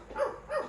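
Cartoon dog in Doraemon gives two short barks, evenly spaced and fairly faint, with no talking over them.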